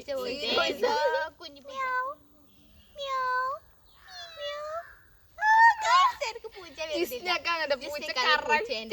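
A child imitates a cat, making several drawn-out meows with short pauses between them, close and clear, with some talk at the start and end.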